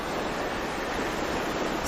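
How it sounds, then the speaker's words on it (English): Ocean waves washing onto a shore during a meditation, a broad continuous hiss of surf that stays steady and moderately soft, with no distinct breaks. "with the sound of the waves"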